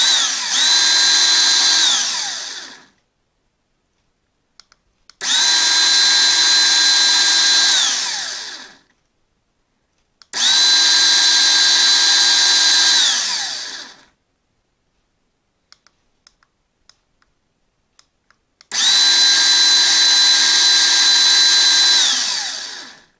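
Drill motor switched on and off four times, each run a few seconds of steady high whine that cuts off abruptly, with faint relay clicks in the silent gaps between runs.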